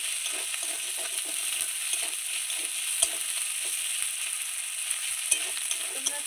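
Chopped tomatoes frying in a pan for a spicy pangas fish curry give a steady, close sizzle, with a few soft clicks from stirring and no voices.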